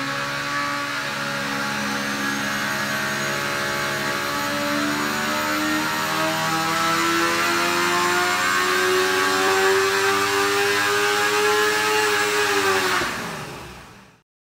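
A 765-horsepower Cosworth XB engine in a car runs on a dyno, a loud, sustained drone that slowly climbs in pitch over about thirteen seconds before cutting off sharply.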